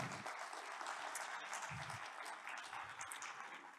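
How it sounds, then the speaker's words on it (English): Faint applause from a conference audience at an opening session, honouring the event's sponsors: a continuous wash of clapping, quiet and somewhat distant, with a few low thumps underneath. "So I would like an applause for all of these sponsors."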